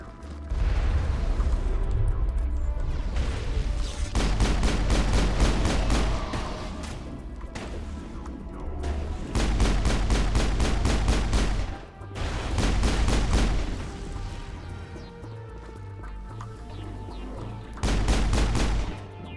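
Heavy automatic gunfire in Mass Effect on the Virmire mission, in long sustained bursts separated by brief pauses, loud and close, with no talking.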